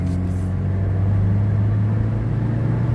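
A 2010 Subaru Impreza AWD with a four-cylinder engine pulling away from a rolling stop, heard from inside as a loud, steady low engine drone and road rumble, no speech.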